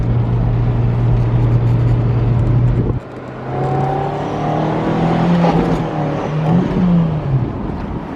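Toyota MR2 SW20 on BC Racing coilovers with no power steering, driven through twisty roads: a steady engine drone cuts off, then returns and climbs in pitch as it revs up, heard close from inside the car.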